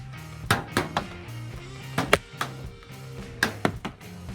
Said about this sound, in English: We're gonna do 3-round bursts from 30 feet